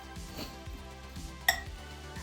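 Oats, cinnamon and brown sugar stirred together in a bowl for apple crumble: soft repeated scraping strokes with a single bright clink of utensil on the bowl midway, close and quiet.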